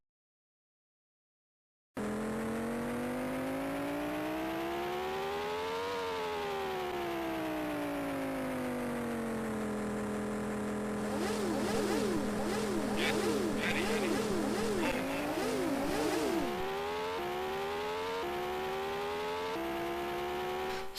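Synthesized motorbike racing engine from the Amiga racing game Prime Mover, a loud steady drone that climbs and falls in pitch with gear changes and acceleration, joined midway by rapid whirring and sweeping overtones as other bikes pass close by.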